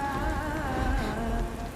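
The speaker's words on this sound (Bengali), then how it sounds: "জোর ঝড় বৃষ্টি আসছে বলে মনে হচ্ছে" Steady rain pours down in a storm, a continuous dense hiss of drops on surfaces, fairly close and uniform throughout with no voices.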